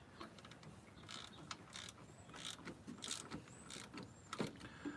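Torque wrench clicking as motor mount bolts are tightened on a 2003 Honda Pilot, with close, quiet mechanical ratcheting and clicks over a rough background of garage noise.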